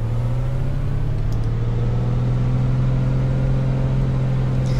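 Simulated A2A Accu-sim Comanche 250 piston engine in FSX, a steady loud droning hum with strong low harmonics held throughout and a slight rise in pitch as throttle is applied, with no talk.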